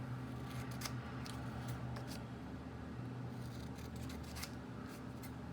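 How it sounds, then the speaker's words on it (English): Scissors snipping through paper while cutting out an octagon shape, a steady run of soft crisp cuts close by with a faint constant background hum and no talk. "once when we cut it out, no one needs to know that we drew our octagon this way"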